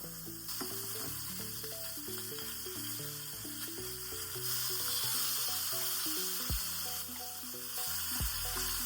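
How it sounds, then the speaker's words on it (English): Beef short ribs searing in a hot pan, a continuous bright sizzle and crackle at close range with some steady low hum beneath, no speech. "I'm going to let this caramelize really well on each side until every side has been cooked."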